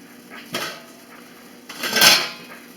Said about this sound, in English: So now we shut it off, and we're going to move it over here